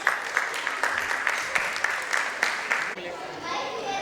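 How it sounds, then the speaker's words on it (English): Audience applause fills a Kumon student award ceremony in Hiranandani, with steady, dense clapping for about three seconds, then a quieter murmur of the hall. "Can you please keep clapping for them and keep motivating them?"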